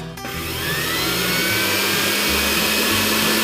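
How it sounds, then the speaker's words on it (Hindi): An electric mixer grinder purees tomatoes, its motor whirring up within a fraction of a second into a loud, sustained high-pitched roar that holds steady and close throughout. "तो आप मिक्सर का बटन चालू करते हैं"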